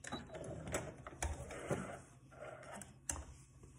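Sewing machine back stitching a seam from a corner to a pin, heard as a short, quiet burst of mechanical stitching clatter with scattered clicks and light handling noise.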